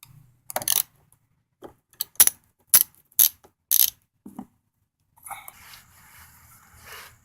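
A ratchet wrench turns a 10 mm bolt on the interior trim of a 2005–2009 Subaru Outback, giving several short bursts of clicking followed by faint fumbling and handling noises, with no talking.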